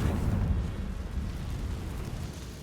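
A Confringo fire spell in Hogwarts Legacy bursts with a deep, rumbling explosion that rolls on and slowly fades over a couple of seconds.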